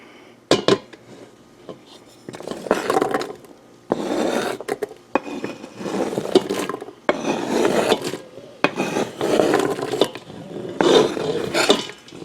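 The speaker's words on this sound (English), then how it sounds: "So I'm going to start introducing the vegetables. Carrots, celery, and onions." Carrots, celery and onions going into melted butter in an Instant Pot, heard as repeated bursts of scraping, rustling and utensil knocks against the metal pot, with short pauses between, no talk.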